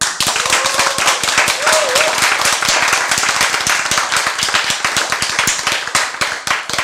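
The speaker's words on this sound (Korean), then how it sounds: "박수." A church congregation claps at a sermon, loud and near, with a rapid, fairly even rhythm of sharp individual claps that carries on for about seven seconds while a voice briefly calls out over it.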